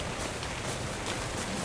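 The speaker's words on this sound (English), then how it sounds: "All the dinos are dying from the acid rain!" Acid rain falling in the game ARK, a steady broadband hiss of rainfall that runs without pause through the whole short stretch, fairly loud and close with no talking over it.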